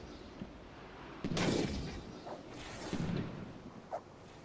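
Cannons fire from a ship's starboard side during a naval battle in the game Blackwake: two heavy, booming blasts a couple of seconds apart, each rolling out over a dense, noisy background, with a smaller crack afterward.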